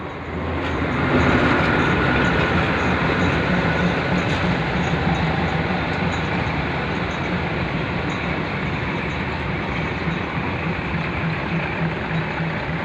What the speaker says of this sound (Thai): ตอนนี้เจ้าหน้าที่ก็กำลังเคลื่อนขบวน รถดิเซลรางท่องเที่ยวนะครับ จากชานชลาที่สามนะครับเพื่อย้ายมาที่ชานชลาที่สองนะครับ